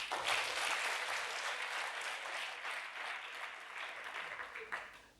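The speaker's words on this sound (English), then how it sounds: "Welcome to the start of Thayer's 146th year, which I think deserves some applause" Audience applause fills a school convocation marking the start of an academy's 146th year, a steady broadband clatter of many hands sustained for about five seconds before tapering off, with faint talk mixed in.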